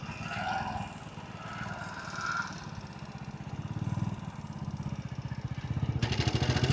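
A 1998 Hero Splendor motorcycle, an old bike with an ignition problem that needs kicks to start, idles with a rapid, pulsing engine putter that grows louder and steadier, faint talking audible early on.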